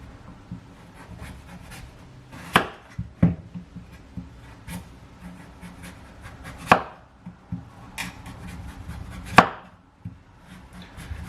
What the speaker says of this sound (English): So let's go ahead and peel our pumpkin.